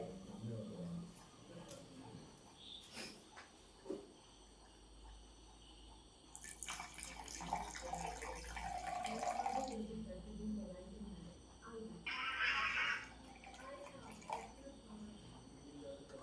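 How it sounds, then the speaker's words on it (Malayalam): Butterfly pea flower juice pours into shampoo in a steady stream for a few seconds, followed by a shorter splashing pour, with soft clinks and faint voices around it. "ഇതിനകത്തേക്ക് നമ്മുടെ ശംഖുപുഷ്പം ജ്യൂസ് ഒഴിക്കാൻ പോകട്ടെ ഒഴിക്കട്ടെ"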